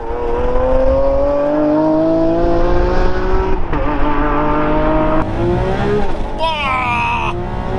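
A Lamborghini Aventador Ultimae with its naturally aspirated V12 accelerates hard in race mode, the loud engine note climbing through the revs with gear changes and a brief shrill whine near the end.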